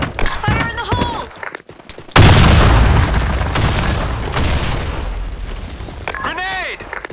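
A grenade goes off in a Counter-Strike-style shooter with a sudden, loud, close blast and a long rumbling roar that slowly fades. Short electronic voice-like chirps sound before and after the explosion.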